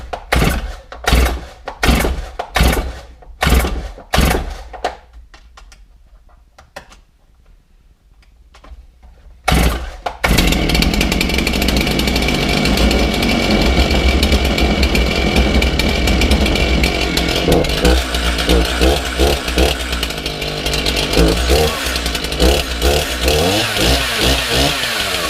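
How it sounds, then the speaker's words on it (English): A Stihl MS311 chainsaw is started with a series of sharp rhythmic pull-cord yanks, then after a brief pause it roars to life and runs loud and close, revving unevenly for about fifteen seconds. "So that is the Stihl MS311 chainsaw."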